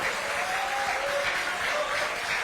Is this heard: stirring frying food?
no